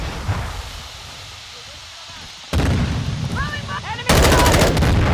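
Call of Duty gunfire on PS5 cracks out in loud bursts of automatic fire and explosions, intensifying toward the end, with game voice callouts mixed in.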